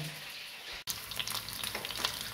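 Steady crackling sizzle of pike heads frying in hot oil, with a brief dropout near the start, then continuing busy popping and spitting, close up and fairly loud.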